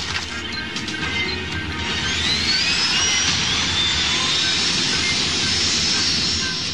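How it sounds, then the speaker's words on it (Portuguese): Jet aircraft taking off with a steady, loud engine roar and a rising whine, continuous and fairly close, with no voices over it. "Iniciando o processo de decolagem."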